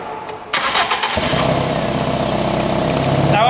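A 1991 Toyota Carina engine cranks briefly, then catches and settles into a steady, loud idle with a leaking exhaust, running on alone without voices.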